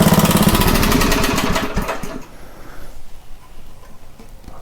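Craftsman rototiller with a rusty tank and dirty carburetor, cranked without choke: a rapid, loud rhythmic chugging for about two seconds that fades into an uneven, quieter sputter and rumble.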